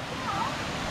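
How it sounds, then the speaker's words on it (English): Lumb Hole Waterfall on the Pennine Way gives a steady, close rush of falling water, a dense unbroken hiss that fills the brief moment, with a faint voice just underneath. "here we are at Lumb Hole Waterfall"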